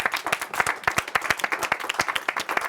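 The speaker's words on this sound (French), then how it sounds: "Applaudissez-vous" Audience clapping at a collective creative performance, a fairly small group with individual claps clearly distinct, brisk and close.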